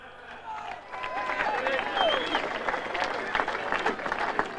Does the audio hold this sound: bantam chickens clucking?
no